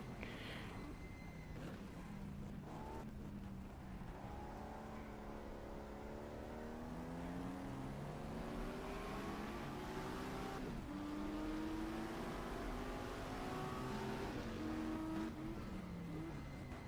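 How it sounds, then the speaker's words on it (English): A 1960s race car engine in the GTR2 FIA GT racing game revs steadily and loudly throughout, rising and falling in pitch through gear changes, with a passing car and faint tire squeal, and no talk. "The engine sound was quite satisfying back then."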